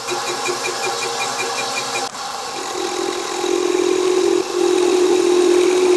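A metal lathe takes an interrupted cut on a part from an old Harbor Freight wagon, a steady machine drone with a rhythmic pulsing tone at first, then a louder sustained ringing whine as the tool engages.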